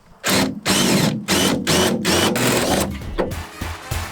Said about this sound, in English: I am ready to drill another hole in the bus